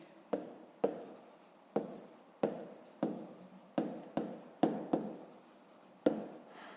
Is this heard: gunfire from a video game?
no